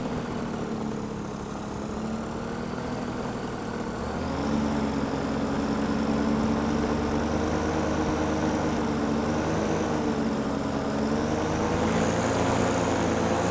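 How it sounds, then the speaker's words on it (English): Fly Products Xenit Cosmos 300 paramotor engine running in flight over farmland with a corn maze, a loud continuous droning buzz from close by that shifts pitch upward after a few seconds and then holds steady, with no talk. "Going to the corn maze on my paramotor."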